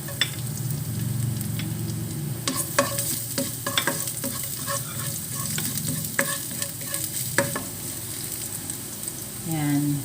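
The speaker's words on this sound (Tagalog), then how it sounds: "Maglagay na rin tayo ng konting cooking oil. Ayan, konti lang. So, ayan, magigisa tayo ng bawang." Chopped garlic sautéing in a little cooking oil in a pan, with a steady loud sizzle and frying crackle throughout, occasional stirring clatter, and a brief clank near the end.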